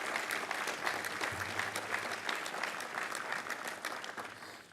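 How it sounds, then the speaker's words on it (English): Sustained applause from a large crowd at the 2006 Emory University commencement ceremony, steady and dense for the whole stretch with a faint low hum underneath. "You deserve an applause, I think."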